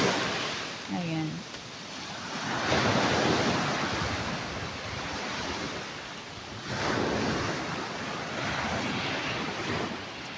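Ocean waves at high tide roll onto a beachfront in Buenavista, Quezon Province, with loud broad surges building and washing in twice, mixed with steady wind noise on the microphone.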